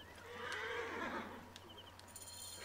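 Horse neighing in Assassin's Creed Origins, a fairly loud whinny rising and then fading over about two seconds, followed by quieter rustling ambience with no talk.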